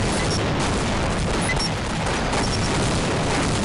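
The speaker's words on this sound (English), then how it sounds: "I'm gonna throw the concrete grenade in a place I don't know where it is" Concrete grenade blast in Team Fortress Classic on the chemfort map: a dense, loud, sustained roar of rumbling explosive noise filling the whole stretch with no clear pause.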